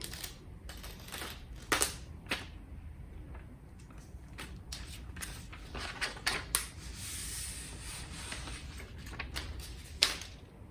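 Paper wrapping is peeled and torn from an iPad mini box, giving quiet rustles broken by sharp crinkles and snaps at irregular intervals, with no talking.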